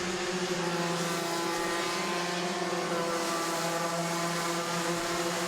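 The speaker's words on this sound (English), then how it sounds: "See Versteeg doing a little bunny hop now as he's trying to get a little more RPM at the end of the straightaway" Several Rotax junior racing kart engines scream together at high revs at the end of a straightaway during a grand nationals final, a steady, loud, buzzing drone with layered harmonic whine and no talking.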